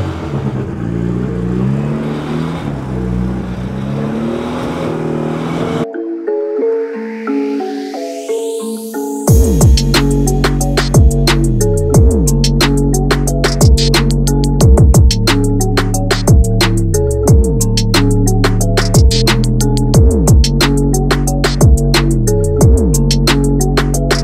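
Mitsubishi Evo sports car engine revving hard at close range, a rising whir giving way to loud, rapid repeated throttle blips with crackling bursts that continue steadily to the end.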